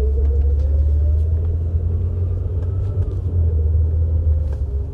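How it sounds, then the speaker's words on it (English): A BMW with a ZF 4HP22 automatic transmission in first or second gear rumbles loudly and steadily, with a faint, slight whine running just above the heavy low drone. "Do you hear that noise? That slight whine? This is only in first and second gear."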